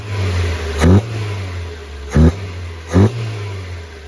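A 1975 first-generation Honda Civic CVCC engine fitted with a Weber 32-36 two-barrel carburetor idles steadily, then revs sharply three times in short blips, close and loud, dropping back to idle after each.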